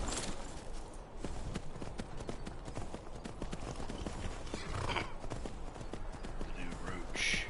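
Horse hooves clip-clop steadily in the Skyrim video game, a continuous even gait over a busy game soundscape with a brief whinny near the end.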